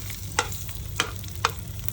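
Dried fish frying in hot cooking oil until crunchy, a steady crackling sizzle with a few sharper pops and stirring scrapes, close and fairly quiet.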